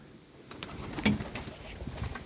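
Soft pigeon coos close by, a few low throaty calls over faint background rustle and scattered taps.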